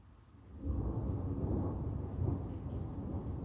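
A low thunder rumble swells after a flash of lightning and rolls on faintly in the distance for several seconds, with no talk over it.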